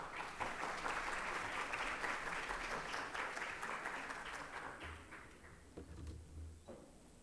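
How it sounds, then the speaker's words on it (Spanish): A lecture audience gives a lecturer a warm round of applause, dense and sustained at first, then thinning and fading over several seconds as a few scattered claps and room noise remain. "A quien los recibimos con fuertes palmas."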